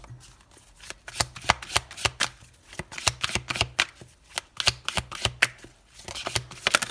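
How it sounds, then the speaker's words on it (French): A tarot deck being cut and cards laid out one by one on a table, giving a run of crisp snapping and slapping card sounds in an uneven rhythm, close up and alone without talk. "on va commencer par une coupe des poissons. Et on va poser les 8 cartes."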